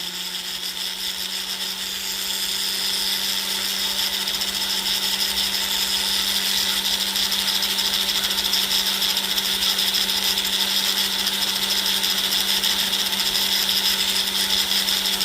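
A power tool sands the major scratches out of a ring being resized, a continuous loud whirring grind that picks up after the first two seconds and holds steady with a constant tonal hum.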